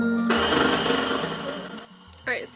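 A sewing machine whirs in a rapid, steady buzz for over a second of stitching fabric for a mermaid tail, then stops abruptly.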